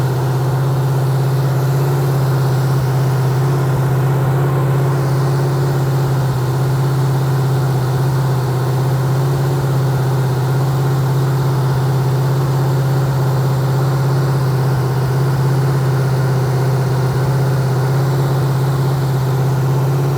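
A 1968 GMC engine holds a steady fast idle around 2000 RPM while breaking in, its loud, constant low drone unbroken and close, with no voices over it.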